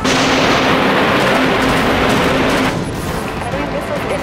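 Torpedoes launching and heavy weapon fire from capital ships in the video game Dreadnought, a loud dense roaring barrage that drops slightly in level near the end, with game voices mixed in.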